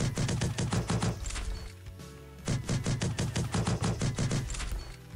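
Desert Eagle pistol fire in the mobile shooter Critical Ops, heard as loud rapid bursts of game gunshots in two clusters separated by a short pause.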